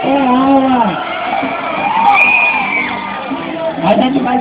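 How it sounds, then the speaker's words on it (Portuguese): A student protest crowd shouting a chant together, loud massed voices rising and falling in a sustained rhythmic yell with whoops, close and filling the whole stretch. "vamos todo mundo fazer o grito da galera que tem aula"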